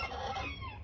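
Hens cluck and chatter close by at feeding time beside a PVC automatic feeder, a busy continuous flock noise without any speech.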